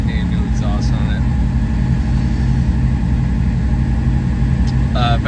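A Cadillac with a faulty exhaust idling after a cold start, a steady low rumbling engine note throughout, with faint speech-like sounds briefly in the background.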